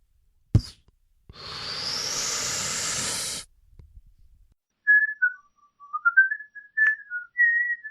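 After a sharp pop and a long hissing blast, a person whistles a short melodic phrase of the tune Dixie, the notes clear and close.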